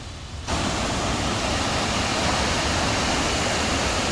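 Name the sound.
Pulhapanzak waterfall in Honduras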